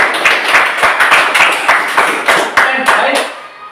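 A group claps in a classroom during a lesson, loud and close, with sharp individual hand claps falling into a loose, almost rhythmic beat before tapering off.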